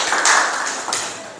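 Classroom applause for a student named Julia, a short burst of clapping from a group of pupils that swells quickly, stays dense and close for about a second and a half, then cuts off.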